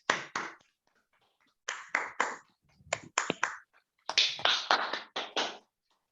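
Applause for guests at the close of a panel discussion, heard as sparse, dry clusters of hand claps from just a few people, separated by silent gaps, close and fairly quiet.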